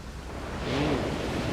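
In the game Call of Cthulhu: Dark Corners of the Earth, ocean waves crash on the shore as a soft, washing hiss that swells briefly and settles, with a faint wind-like rush and no voices.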